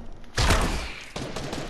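Gunfire in the Fortnite video game: a loud burst of shots followed by a second volley about a second later, dense and close, with no talk over it.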